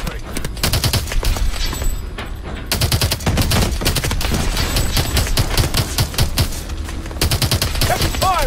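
Rapid automatic gunfire from Call of Duty: Advanced Warfare rattles loudly in dense, continuous bursts with brief pauses, accompanied by intermittent radio chatter.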